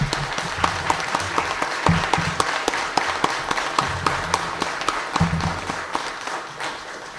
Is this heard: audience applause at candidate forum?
yes